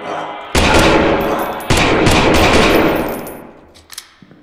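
Rapid automatic gunfire from the horror video game Lost in Vivo, two loud sustained bursts that fade out, ending with a few faint isolated shots.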